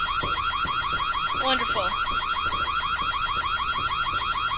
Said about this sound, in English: we set off an alarm